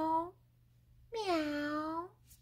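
A voice imitates a cat meowing, giving two clear meows, a short one followed by a longer drawn-out one, close and alone in a quiet room.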